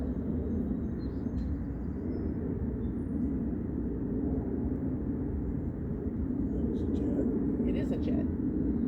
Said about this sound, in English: It just sounds like standard airliner.